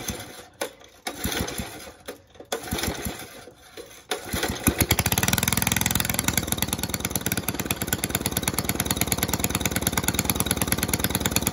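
Small engine running on choke: a few uneven starting bursts and sputters, then it catches into a fast, loud, steady buzzing idle that holds to the end.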